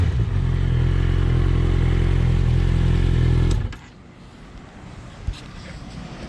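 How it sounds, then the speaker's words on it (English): A Suzuki GSX650F motorcycle engine, previously bogging from a fuel problem, holds a loud, rough rev close by, then drops off suddenly to a quiet low idle. "I'm gonna do a little rev for you just to show you how it goes all the way up"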